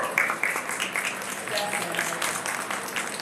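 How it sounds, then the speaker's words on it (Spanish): A crowd applauds with brisk, scattered clapping, while a few voices and cheers rise through it. "Fuerte aplauso."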